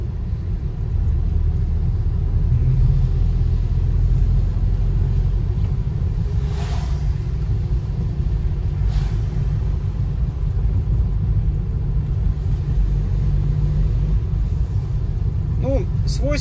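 A car driving along the road out of Kabardinka in Krasnodar Krai in January, a loud continuous low engine and tyre rumble filling the whole stretch, with a person talking over it.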